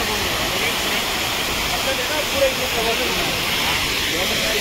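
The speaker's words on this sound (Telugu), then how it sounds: "అక్కడ పైన నుండి పడుతున్నాయి మొత్తం వాటర్." A forest waterfall on the way to Munnar, with water pouring down from above, gives a steady, dense rushing roar. It is close and continuous for the whole stretch and does not vary.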